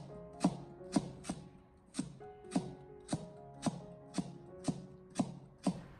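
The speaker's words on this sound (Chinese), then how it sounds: "最后我们再将白萝卜给它改刀分切成薄片" A knife cuts white radish into thin slices on a board, about a dozen crisp, evenly spaced chops falling roughly twice a second, close and fairly quiet with no voices.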